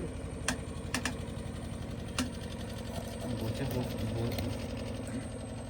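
A boat engine runs steadily at speed on a river outing during a hilsa fish festival, a continuous droning, rattling hum underneath with a few sharp ticks over it and faint voices in the background.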